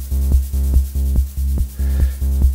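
Blue noise gated through a VCA and inverter on a modular synth makes a rhythmic beat: sustained droning tones broken by short sharp noisy hits, about three per second, loud and close.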